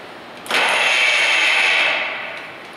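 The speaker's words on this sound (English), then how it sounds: "it'll make a horrible sound like this" Vertical milling machine gears grind when not engaged: a harsh metallic whine starts abruptly, holds steady and loud for over a second, then fades down as it winds off.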